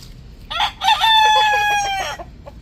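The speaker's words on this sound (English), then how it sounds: "give the chickens to eat, and they love it" A rooster crows once on a small farm, a loud drawn-out call with a rising start and a trailing end, heard close by with quiet surroundings.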